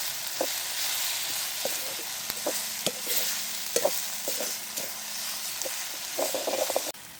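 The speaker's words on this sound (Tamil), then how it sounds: "நான் தூளும் சேர்ந்து பொரிக்கட்டும்" Steady crackling sizzle of chili powder and spices frying in a pan, with occasional sharp pops and stirring clicks throughout, close and fairly loud.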